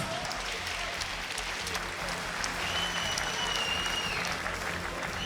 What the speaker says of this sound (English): We start with a big round of applause for both fighters, Ramzam and Tiarnan.